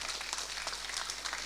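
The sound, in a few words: applause for RRI radio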